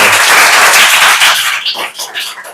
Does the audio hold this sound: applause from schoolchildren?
yes